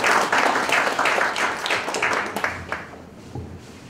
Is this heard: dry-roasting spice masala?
no